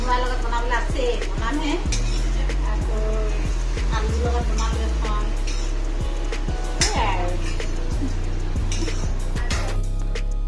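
Lai greens are stir-fried in a pan in a home kitchen, with a steady sizzle, repeated scraping and clinking of a spatula against the metal, and a low hum underneath; a voice is heard briefly.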